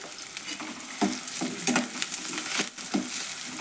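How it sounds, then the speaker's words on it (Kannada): Curry leaves crackle and spit as they drop into hot tempering oil with onion, while a spoon scrapes the pan in quick strokes over a continuous close sizzle. "ಕರಿಬೇವು ಹಾಕ್ತೇನೆ ನೋಡ್ರಿ"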